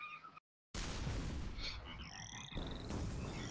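Cartoonish frog croaks from the artillery video game Shellshock Live, loud and busy over game sound effects, with a brief drop to silence near the start and a rising electronic tone later.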